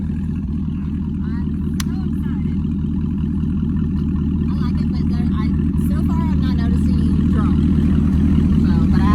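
A 2019 Camaro SS1LE with an MBRP race catback exhaust and secondary cat delete idles with a steady, deep low rumble that carries throughout, while people talk over it.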